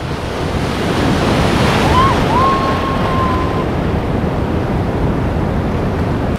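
Ocean waves in Costa Rica roll and break while a swimmer tries to catch them while bodysurfing. The surf makes a loud, steady rush with wind buffeting the microphone and a brief faint tonal sound partway through.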